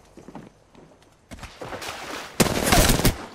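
Gunfire in the video game Apex Legends, first faint distant shots and then loud rapid bursts of automatic fire building to a dense, harsh volley near the end, with no talking.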